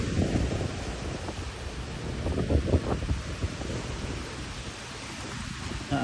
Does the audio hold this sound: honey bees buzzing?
no